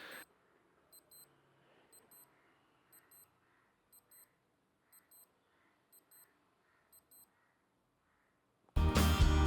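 A Casio AQ-S810W digital watch alarm beeps in a steady repeating pattern of quick high double chirps, faint and alone, before a loud burst of noise cuts in at the end.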